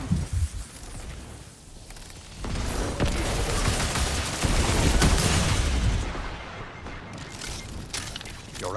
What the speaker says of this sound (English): Your runner is under fire.